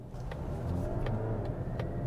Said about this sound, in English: that was the engine kicking in to help me get away from a standstill